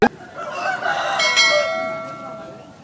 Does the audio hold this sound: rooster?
yes